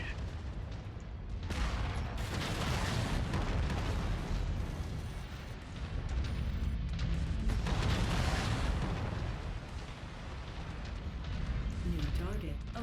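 Heavy weapons fire and explosions in a mech combat game, dense continuous booming and rumbling blasts with rattling gunfire, loud and sustained throughout, with a voice speaking over the battle.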